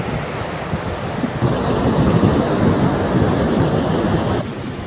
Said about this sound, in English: If you're looking for a beach around Sedgefield, this is probably the closest and most accessible one.